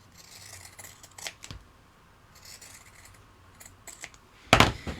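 Scissors trimming a piece of crafting material for a blueberry bunny's head, a few quiet snips followed by one loud, sharp close cut near the end.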